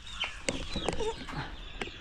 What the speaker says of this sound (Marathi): ही सर्व गावठी कोंबडीची गावठी कोंबडीची आहेत का?